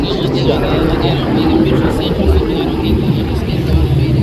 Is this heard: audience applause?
no